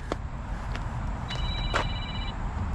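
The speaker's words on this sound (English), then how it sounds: "There's the phone." A telephone rings indoors during work on a C8 Corvette, a short electronic ring tone standing out over a steady low background hum, heard once clearly in the middle.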